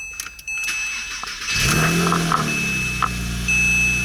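A Porsche engine cranks and catches after a brief quiet stretch, then settles into a steady idle, loud and close.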